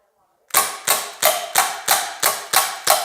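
A CO2 air pistol with a non-blowback action fires eight sharp, evenly spaced shots in quick rhythm after a brief silence, each crack close and loud with a short decay.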